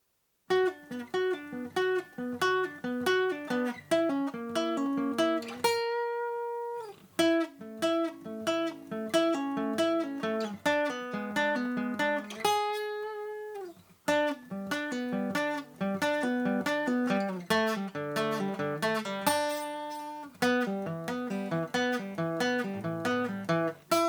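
Guitar picks low harmony lines in a steady run of plucked notes, broken by a few short pauses where single notes ring out, close and clear with no talk.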